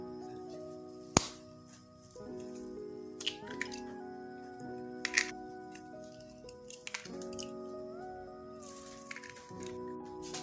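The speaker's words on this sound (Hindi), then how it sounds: "ये अंडे पहले डालेंगे वन बाय वन।" Eggs are cracked and dropped one by one into a bowl for a vegetable omelette: a few sharp, separate taps and wet plops spaced seconds apart, quiet over background music.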